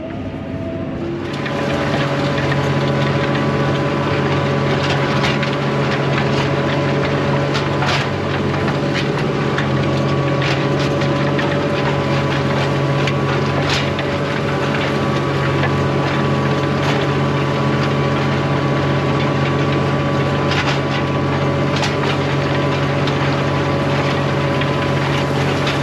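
A tractor engine runs steadily while pulling a 3 metre grubber, a constant loud droning hum with strong low harmonics and some wind noise, holding unchanged for the whole stretch with no speech.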